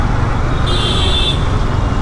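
Long-distance buses and other vehicles rumble past on a busy road in a continuous, close roar. A brief, high horn-like tone rises over the traffic for about half a second.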